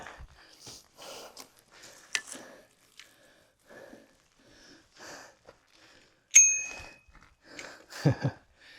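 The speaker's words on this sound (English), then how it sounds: "stupid bell" A bicycle bell on a Carrera Fury mountain bike gives a single sharp ding partway through, standing out among quiet breathing and faint scuffing sounds outdoors.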